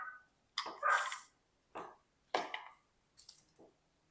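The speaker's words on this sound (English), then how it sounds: "My dogs, if you can hear them, they're starting to bark." A few dogs, just roused from a morning nap, let out several sharp, separate barks spread across a few seconds, fairly close and alone, with quiet gaps between them.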